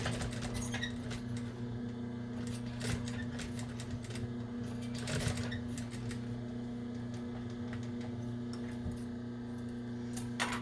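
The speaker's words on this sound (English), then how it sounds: "I'm going to finish all the way out and back stitch at the end." A sewing machine stitches a dinosaur hooded towel to the end of a seam and back stitches, a steady, fairly faint motor hum with rapid mechanical clicking running throughout.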